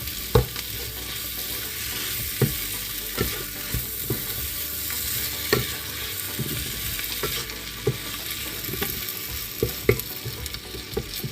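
Chicken coated in masala and salt is stirred and fried for a Thalassery dum biryani, a dense steady sizzle with regular scraping strokes roughly every second, close and unaccompanied by speech.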